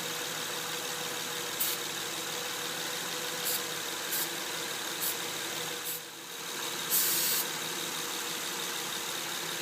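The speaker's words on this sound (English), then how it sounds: "Got a little starting fluid. See if I can get a rev up." A Honda Pilot engine runs steadily during a vacuum leak test, a close, loud continuous drone with a few brief rises in pitch and a short dip before picking back up.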